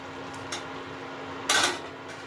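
Sugar is stirred into carrot halwa in a pot, a low background hum broken by a light spoon clink and then a louder metallic scrape against the pot, with a final soft tap.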